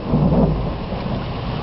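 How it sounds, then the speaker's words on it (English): A thunderstorm with heavy rain gives a deep rumbling roll of thunder over steady loud rain, the low rumble strongest at the start and then settling into a constant wash. "we got lots of claps of thunder"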